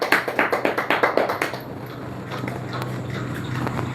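Crowd applause at a lucky draw prize announcement, a burst of fast rhythmic clapping for about a second and a half that quickly fades to scattered claps and room murmur.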